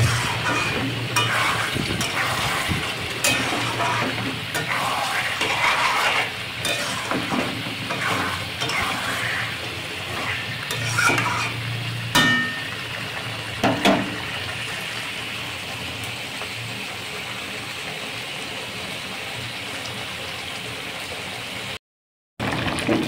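Mutton being stirred and sautéed in a pan for Bengali kosha mangsho, a sustained sizzle with rhythmic spatula scrapes and clatter through the first half, then a calmer steady fry and a brief dropout near the end.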